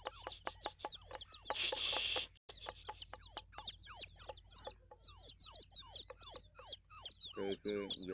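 Young chicks on a poultry farm chirp nonstop in dense, high peeping calls, many birds close together, with someone speaking intermittently underneath.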